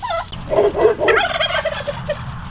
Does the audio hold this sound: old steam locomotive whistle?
no